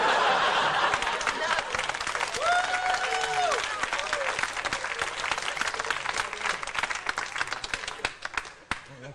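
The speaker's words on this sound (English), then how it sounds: "Clap, I'm not used to that, man." Audience applause fills a comedy club during a stand-up set, a dense steady clapping wash with scattered chuckles, gradually thinning out toward the end.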